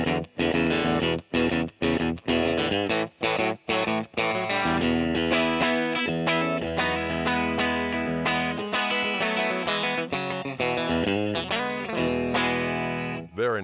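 A Fender 1959 Stratocaster Relic electric guitar played through its bridge pickup alone, with strummed chords and single notes up and down the neck, a bright, grainy tone with a slight effect, steady and close.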